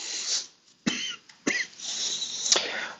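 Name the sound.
cough from someone getting over a cold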